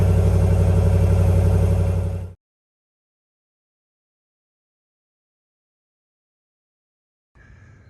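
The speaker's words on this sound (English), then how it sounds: "here we are, starting with the stock exhausts. That's what it sounds like." A car engine with its stock exhaust runs steadily and loud for about two seconds, then cuts off abruptly into silence before a faint noise returns.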